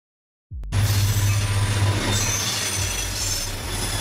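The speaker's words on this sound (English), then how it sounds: "Freight train, the strong man of the tracks." Heavy freight train rolling along the tracks, bursting in suddenly after brief silence into a loud, close, sustained rumble with a steady low drone and grinding metallic wheel noise that holds on to the end.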